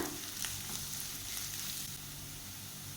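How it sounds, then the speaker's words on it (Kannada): Chillies and curry leaves frying in hot oil for a curd curry make a continuous crackling sizzle with a few sharper pops early on, close and steady throughout with no voices. "ಸ್ವಲ್ಪ ಬೇವು ಸೊಪ್ಪನ್ನು ಹಾಕ್ಕೊಂಡು ಚೆನ್ನಾಗಿ ಫ್ರೈ ಮಾಡ್ಕೊಳ್ಳೋಣ"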